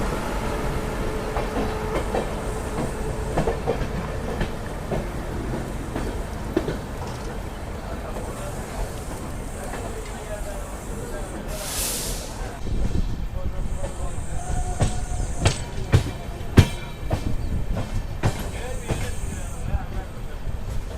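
Sapthagiri Express with new LHB coaches runs out of MGR Chennai Central toward Tirupati, its wheels clicking steadily over rail joints under a constant rumble and hiss, with a passenger talking over the noise.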